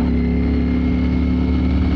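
A 2022 Ducati Streetfighter V4S heard while riding, giving a loud, continuous engine drone with steady rumble and wind, close and unbroken throughout, with no voice over it.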